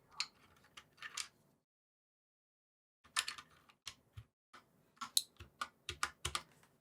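Keycaps being pulled off and pressed onto an Anne Pro 2 60% RGB mechanical keyboard, the shift key swapped for a big yellow one: sharp plastic clicks and taps close to the mic, a short cluster, a silent gap, then a denser run of clicks.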